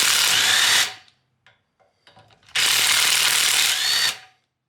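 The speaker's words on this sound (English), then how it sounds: "So we basically just undo these 4 bolts and then it will fall off basically." Power tool undoing the four wheel bearing hub bolts on an Audi A3, two loud sustained whirring bursts with a quiet gap of faint clinks between them.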